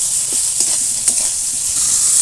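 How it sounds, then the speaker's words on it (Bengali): Eggplant pieces seasoned with salt and turmeric frying in a pan for shukto, a soft continuous sizzle with a few light clicks from handling, close and without speech. "এবার বেগুনটা ভাজবো।"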